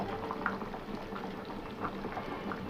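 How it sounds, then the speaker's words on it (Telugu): Mango-piece curry simmers in a pot, giving a steady bubbling and popping close by, with small irregular bursts over a soft liquid hiss and no talk. "మంచిగా ఉడుకుతోందండి."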